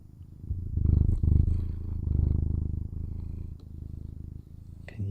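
A cat purrs up close in soft, rhythmic waves of low rumbling, swelling and easing with each breath, steady throughout with a small rustle near the end.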